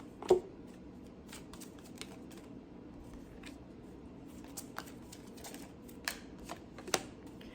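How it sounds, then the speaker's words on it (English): Tarot cards being thrown down and shuffled during a reading, quiet scattered flicks and slaps of card stock with brief taps, close and faint. "Let's go ahead and throw cards down for Gemini."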